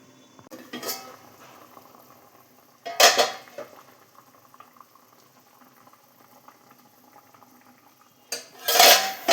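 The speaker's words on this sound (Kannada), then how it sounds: "ಮುಚ್ಚಿ 10 ನಿಮಿಷ ಕುದಿಸೋಣ" Fish curry simmers in a pot under a lid, a low bubbling beneath three loud clanks of metal lid and utensils against the pot, spaced several seconds apart.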